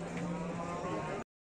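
Cattle at the Dabwali livestock market low in a long, sustained moo, fairly faint against the market's background murmur before it cuts off abruptly.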